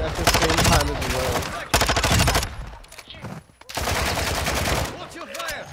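Video game gunfire comes in loud rapid bursts with short pauses between volleys, like automatic weapons, with voices faintly mixed in.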